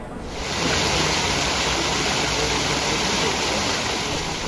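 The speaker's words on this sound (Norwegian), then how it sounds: "Berninis berømte fireflodsfontene på Piazza Navona" Water from Bernini's Fountain of the Four Rivers in Piazza Navona, Rome, pours in a steady, dense, splashing rush that holds evenly throughout, close and loud, with no voices.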